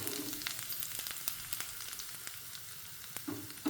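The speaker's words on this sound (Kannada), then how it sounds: "ಬೆಳ್ಳುಳ್ಳಿ ಇಷ್ಟು ತೊಗೊಂಡಿದ್ದೆ, ಗುದ್ದಿಟ್ಟಿದ್ದೆ, ಹಾಕ್ತೇನೆ." Crushed garlic sizzles in hot oil for a tempering, a steady close frying hiss dotted with small pops and crackles, quiet overall with no talking.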